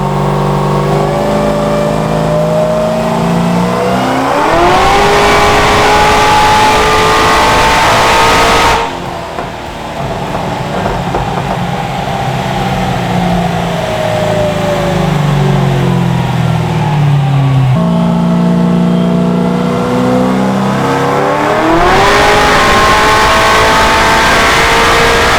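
A 900 hp 1969 Camaro V8 on a dyno makes loud, sustained wide-open-throttle pulls, pitch climbing steadily through the revs. It cuts off abruptly, drops back, then repeats in several long sweeps with no talking.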